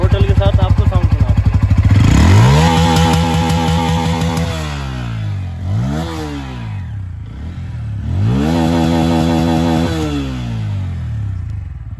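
A nearby 2024 Bajaj Pulsar N160 motorcycle engine idles roughly, then revs up and falls back three times, its stock exhaust note rising and dropping loudly.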